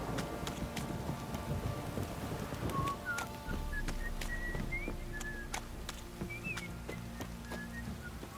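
Rain and thunder in the video game The Witcher 3: steady pattering rain with a low rumble of thunder, plus thin whistling tones and scattered sharp ticks over the downpour.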